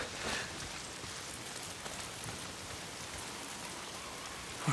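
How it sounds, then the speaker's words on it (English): Steady video game rain pours down, a dense hiss of drops hitting surfaces, continuous and fairly close with no voices, in the game Days Gone. "It's the goddamn rain."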